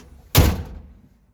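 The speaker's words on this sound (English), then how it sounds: "Shut the door." A single solid thunk as the door of a 1959 Nash Metropolitan car shuts, close and sharp, then a brief decay into quiet.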